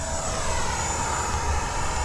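FMS P-40B Warhawk radio-controlled warbird in camouflage paint flying overhead, a steady buzzing electric motor and propeller drone that holds level and continuous throughout with no talk.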